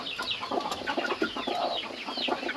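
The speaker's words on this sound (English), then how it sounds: "So we have a whole group of broody hens over here." Several broody Orpington hens cluck and murmur close by, overlapping soft, throaty calls in an uneven, continuous chatter.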